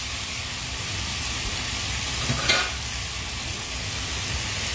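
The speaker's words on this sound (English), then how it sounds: "So frying." Steak sizzling and frying in oil in a pan too small to flip it, stirred as it cooks for ginger beef with noodles; a steady, close hiss and crackle runs throughout with a brief louder spit midway.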